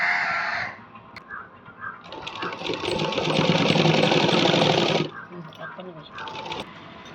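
A sewing machine stitches lace onto a blouse, its dense steady whirr running loud for several seconds before stopping, with shorter bursts of stitching before and after and someone talking in between.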